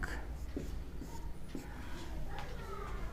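Chalk or marker taps and scratches in short strokes as a teacher writes during a biology lecture, a few distinct marks over a low room hum with faint background voice.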